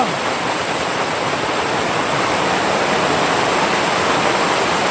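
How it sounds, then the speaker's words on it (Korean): Rain falls steadily outdoors on a farm as an even, unbroken hiss that stays at a constant level, with no voices. "빗소리 들리시죠?"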